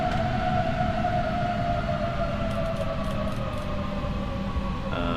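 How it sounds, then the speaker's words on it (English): A wailing, tornado-siren-like tone from an Airbus A330 in the X-Plane 12 flight simulator, a loud, steady sustained drone over constant low rumble, holding level for several seconds with no voices. "It sounds like a tornado siren."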